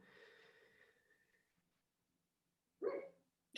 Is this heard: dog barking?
yes